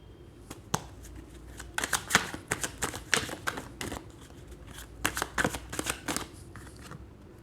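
Tarot cards are shuffled and drawn in repeated crisp bursts of riffling and flicking, close and fairly loud, with brief pauses between the runs of snaps.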